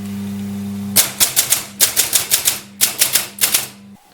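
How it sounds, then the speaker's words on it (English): An old electromechanical typewriter, switched on with a steady motor hum, hammers out bursts of sharp, loud keystrikes in quick irregular runs, close by and with no voices, before the hum cuts off at the end. "I inherited this old electromechanical typewriter"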